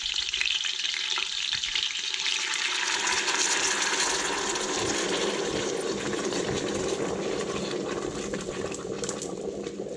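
Loud, steady sizzling as water is poured over hot meat and its drippings in a pot, a dense bubbling hiss with crackles throughout and no talking.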